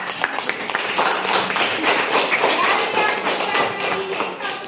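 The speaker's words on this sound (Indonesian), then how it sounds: "silakan kasih tepuk tangan dulu" Classroom students clap together in a dense, continuous burst of overlapping hand claps, moderately loud and sustained throughout.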